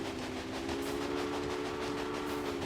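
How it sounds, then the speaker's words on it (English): A train rolls along in the PC-style railroad strategy game Railway Empire, a steady mechanical hum with a sustained low tonal drone and faint rail clatter, even and continuous throughout with no talking. "There goes that train there."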